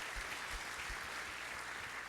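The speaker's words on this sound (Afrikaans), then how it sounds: "Kom ons gee 'n lekker hande klap." A church congregation gives a round of applause for a fundraising total during a live morning service, a steady dense clapping that fills the room evenly from start to finish.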